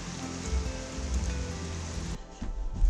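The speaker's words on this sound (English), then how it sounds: "we've come inside because it is raining outside." Rain falls outside, a steady patter heard from indoors that drops away abruptly partway through, leaving a quieter, thinner hiss.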